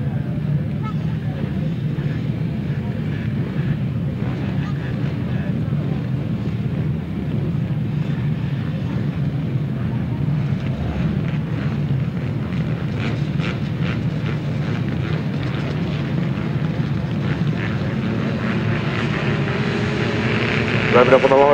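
Grasstrack racing motorcycles rev together on the start line before a junior race, a dense, steady engine drone held at a distance throughout, with a sharper rise in revs near the end.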